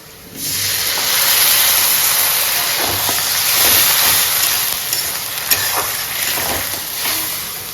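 Ginger-garlic paste hitting hot fried onions in a pan for a Bengali prawn curry, bursting into a loud, continuous sizzling hiss that holds steady for several seconds.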